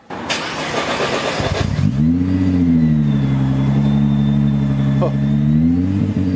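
A 1800 hp Nissan GT-R engine starts with a sharp burst, then settles into a loud, steady low idle-like drone with a whining turbo tone above it. A brief exclamation is heard near the start.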